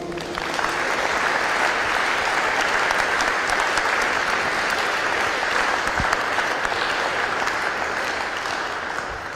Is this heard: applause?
yes